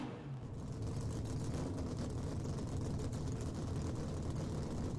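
Race car engines roar in the NR2003 racing game at Daytona, a constant loud, low droning hum that stays steady and unbroken without talk.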